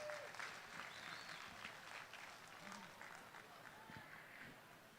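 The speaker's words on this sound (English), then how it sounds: "Give the lamb exhibitors one more big round of applause" A county fair crowd gives a round of applause for 4-H/FFA market lamb exhibitors: a faint, distant, continuous wash of clapping and crowd murmur that holds steady throughout, with voices mixed in.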